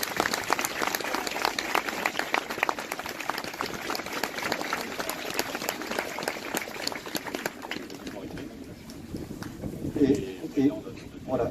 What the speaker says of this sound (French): je crois qu'ils méritent vos applaudissements chaleureux